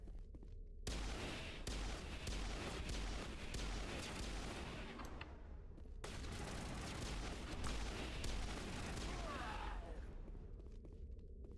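Pistol gunfire during a Mass Effect firefight, dense crackling shots and impacts layered over a continuous rumble of combat, a brief lull near the middle before the shooting resumes.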